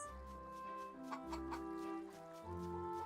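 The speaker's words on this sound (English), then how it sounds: "This is where the chickens are." Chickens clucking in the horror video game Fear The Spotlight, a soft, distant flock of irregular clucks over a low game ambience hum, no talk during it.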